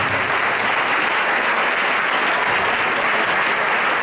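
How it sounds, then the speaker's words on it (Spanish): Audience applauding at a public talk with a former Spanish prime minister, dense and loud continuous clapping from a large crowd that holds steady throughout, with no voices over it. "Un aplauso para ella."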